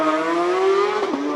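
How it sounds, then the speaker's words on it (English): A Porsche GT3 RS 992 race car on a hill climb at Speed Classic Cape Town sends out a loud, close, steady engine howl that climbs slightly in pitch, then a quick downshift blip near the end. "Ryan Lowe and the GT3 RS 992 doing what they do best"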